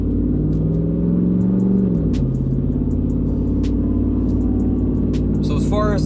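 Low, steady exhaust drone of a Dodge Ram 1500 pickup with a 5.7L Hemi V8 and an aftermarket exhaust, cruising with a deep continuous rumble and a slight pitch drop, heard from inside the cab.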